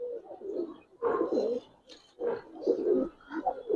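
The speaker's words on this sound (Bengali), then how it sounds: "সম্পূর্ণ পুতুলের মতো কবুতর" Silver khaki Giribaz pigeons cooing up close in a series of three or four throaty rolling coos, each swelling and fading with short pauses between.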